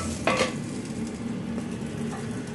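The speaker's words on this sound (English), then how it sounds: "So while the lamb mixture is simmering, fry off some aubergines" Aubergines frying in a pan for moussaka: a steady close sizzle with a brief scrape or clink of a utensil near the start, no talking.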